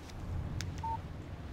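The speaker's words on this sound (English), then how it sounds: "Text message from Barry." A short electronic text-message alert in the video game Alan Wake, a single brief tone over a low game ambience with no talk.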